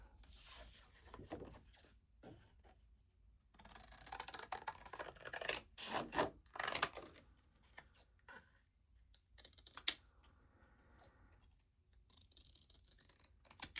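Close, quiet snipping and rustling as scissors cut through paper in short bursts, with pauses between cuts.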